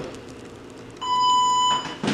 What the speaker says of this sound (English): got the timer going.